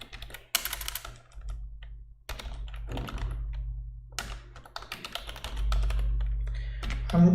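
Fingers typing notes on a computer keyboard, bursts of close, crisp key clatter separated by short pauses, with a faint low hum underneath and no talk.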